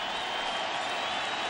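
A baseball stadium crowd at a Cubs at Cardinals game cheers in a steady, dense roar of many voices, loud and continuous throughout the short moment.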